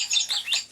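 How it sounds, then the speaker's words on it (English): Small birds chirp in a rapid, bright twittering pattern, several short calls repeating at a moderate level with no voices present. "That must be birds"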